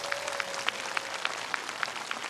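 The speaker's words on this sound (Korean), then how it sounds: "네, 준하경 경주시장님께 큰 박수 부탁드리겠습니다." Thin, scattered applause from a small audience at the 52nd Silla Cultural Festival ceremony in Gyeongju. A few distant claps fall in a loose, steady rhythm over a quiet background.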